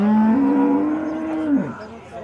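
A cow at a cattle fair in Campina Grande gives one loud, close, sustained moo that bends downward at the end, with faint crowd noise behind it.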